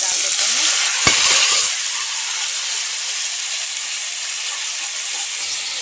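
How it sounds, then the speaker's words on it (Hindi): Mushrooms with onion and green chili frying in a pan, a loud continuous sizzle with a brief clatter of stirring near the start, steady and close throughout. "तब हम इसमें थोड़ा सा नमक डाल देते हैं और अच्छे से इसको हम भून लेते हैं"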